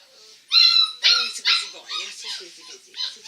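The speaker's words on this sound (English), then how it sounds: "He's a nice little puppy." A small black puppy lets out a string of high, thin whimpers and yips, close and fairly loud, several short cries in uneven rhythm.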